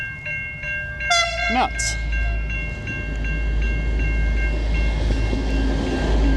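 A train passes on a rail line at sunrise, its horn sounding in a short rising blast before a steady, loud rumble of rail cars rolls by nearby, while a voice speaks briefly.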